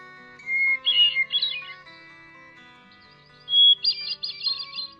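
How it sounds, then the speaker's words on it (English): Hermit thrush (Catharus guttatus) song: two clear, fluting phrases separated by a pause, each starting on a pure whistled note and breaking into rapid, ringing flourishes, heard alone and fairly close. "The bird whose song many regard as the most beautiful of any North American bird species, today's featured feathered friend, Catharus guttatus, the hermit thrush."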